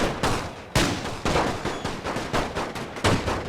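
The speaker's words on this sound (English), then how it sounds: "oh, now they stopped to fire. I wonder, are they firing at these guys?" Rapid, overlapping rifle and machine-gun fire from troops in the World War I strategy game The Great War 6.0, a dense run of sharp cracks in several bursts, loud and close, with no voices.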